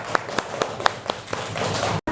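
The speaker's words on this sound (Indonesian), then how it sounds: "kita kasih tepuk tangan untuk Alka." A class of children in a Quran lesson claps for a pupil, a few distinct sharp claps at first quickening into brief scattered applause nearby, then cut off abruptly.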